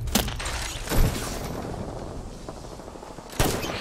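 Gunfire in the video game Apex Legends: three loud, sharp shots ring out at uneven intervals, each trailing into a rumbling decay over a low, steady background.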